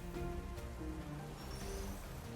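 A rain weather effect in a Pokémon video game battle, heard as a quiet, steady patter of drops falling on a surface, continuous throughout with no voices.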